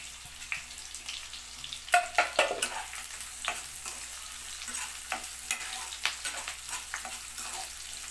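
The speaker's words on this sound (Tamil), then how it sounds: "எண்ணெய் நல்லா சூடான பிறகு வெங்காயமும் கருவேப்பிலையும் சேர்த்துக்கலாம்." Onions and curry leaves frying in hot oil, a steady crackling sizzle with sharp bursts of spattering and stirring clatter, close and alone.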